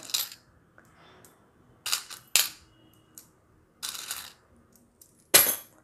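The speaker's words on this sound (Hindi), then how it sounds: "अब जैसे मैं सिक्के रखना शुरू करती हूँ और बिल्कुल एक के ऊपर एक सिक्का होना चाहिए" Coins set one on top of another in a stacking game: a handful of sharp metallic clicks and clinks, close and distinct, spaced irregularly with quiet gaps between.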